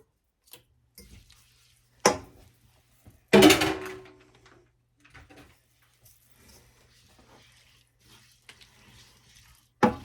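A rubber spatula stirs and scrapes taco filling in a pan, producing scattered soft taps and scrapes with a couple of sharper clacks, quiet between them.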